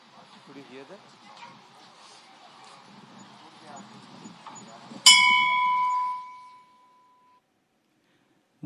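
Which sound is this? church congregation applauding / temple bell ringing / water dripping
temple bell ringing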